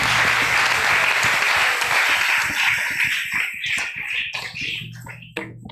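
A church congregation bursts into loud, dense applause that thins into scattered claps over several seconds before dying away.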